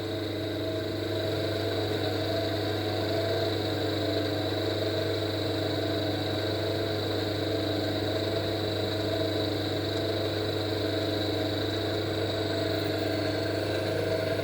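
A generator runs with 25 volt excitation applied, giving a steady, continuous hum and whir at close range, constant in level throughout with no speech.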